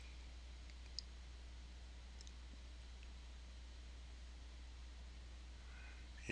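A computer mouse clicked a few times, faint isolated ticks over a quiet steady hiss, with nobody speaking.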